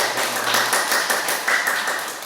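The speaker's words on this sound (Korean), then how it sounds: "박수 한번 보겠습니다." A small church congregation claps together during a sermon, a close, fairly loud burst of hand claps with a slightly uneven rhythm, sustained for a couple of seconds.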